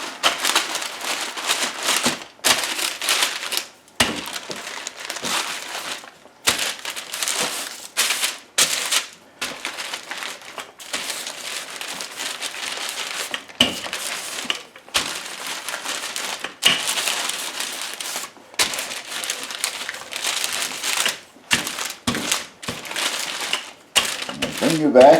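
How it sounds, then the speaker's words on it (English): Pastry dough for a pear tarte tatin rolled out between two sheets of parchment paper, giving repeated crinkling, rustling and soft thumping passes with brief pauses, close and fairly loud, with talk at times. "I'm going to roll it out between two sheets of parchment paper."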